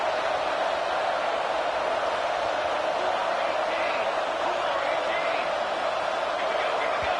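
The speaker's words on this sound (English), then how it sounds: "with this place rocking, the crowd forces a false start" Dense, steady roar of a packed football stadium crowd, loud and unbroken throughout with no distinct individual voices standing out.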